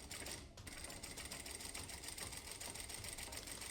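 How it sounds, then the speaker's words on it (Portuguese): A sewing machine stitches a seam on a child's anatomical brief using tiny stitches, a steady fast mechanical whirr close up that runs without pause, with no talking. "E agora, eu vou fazer uma nova costura ainda com ponto pequenininho."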